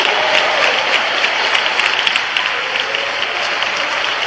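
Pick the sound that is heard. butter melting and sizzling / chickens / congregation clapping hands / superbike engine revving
congregation clapping hands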